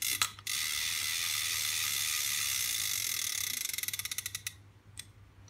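A Daiwa spinning fishing reel turns steadily with a continuous whirring, then a fast run of clicks that slows and stops, followed by a couple of isolated ticks, close and alone with no talk.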